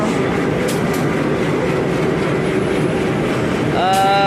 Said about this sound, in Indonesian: Nah akhirnya kita tiba di stasiun Blitar